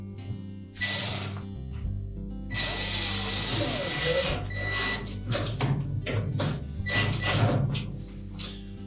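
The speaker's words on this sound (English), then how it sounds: "we'll line up the screw holes and tighten those in" A power driver tightens machine screws into a Whirlpool washer hinge in bursts of loud whirring, separated by short pauses and handling noises.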